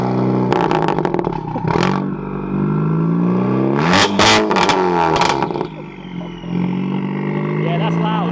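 A loud 500bhp widebody Ford Focus ST engine rumbles and idles with a few sharp revs and crackles, while a person talks over it.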